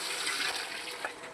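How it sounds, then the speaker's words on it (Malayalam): Beef stock, the water the beef was boiled in, is poured into beef biryani masala for a Palakkad Rawther-style biryani, making a steady, close rushing gush of liquid that runs unbroken with no voices. "വെള്ളം ഒഴിച്ചു കൊടുക്കണ്ട്."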